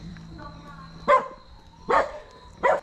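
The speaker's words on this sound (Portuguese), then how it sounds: "agora vai ficar saindo o latido no vídeo todo" A small dog barks three times at a distance, spaced about a second apart, over a quiet background.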